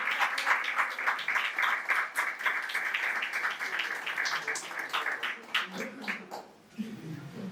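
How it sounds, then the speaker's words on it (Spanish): Applause for Sergio Salas, guitarist and lawyer, rings out at a centenary tribute to Óscar Avilés: a sustained patter of many hands, steady and moderately distant, easing off toward the end. "Un aplauso también para Sergio Salas."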